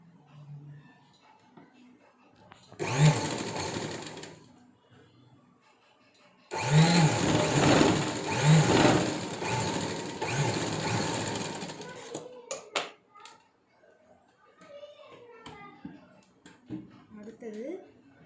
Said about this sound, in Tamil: இந்த ஒரு துணியை மட்டும் எடுத்துகிட்டு இப்படி ஒரு தையல் போட போகிறோம்